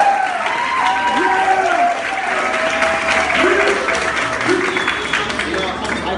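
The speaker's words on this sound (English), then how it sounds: "everybody to give a loud applause for how beautiful that Beyonce is" Wedding guests break into sustained, loud applause filling the room, a dense steady wash of clapping with voices mixed in underneath.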